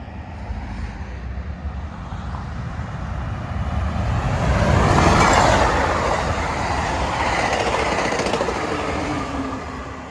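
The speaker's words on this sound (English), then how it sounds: "here comes Amtrak train number 579" An Amtrak passenger train led by locomotive 90215, a former F40PH, rumbles past, building to a loud roar midway and then slowly receding, with a steady broadband rush throughout.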